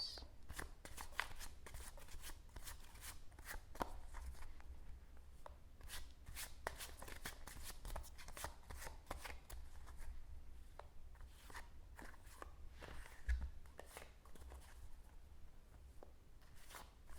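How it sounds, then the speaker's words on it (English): Tarot cards being shuffled by hand, a run of soft, crisp riffling and flicking strokes repeating close up and quiet throughout, with no talking. "So, Theresa, I'm shuffling the cards"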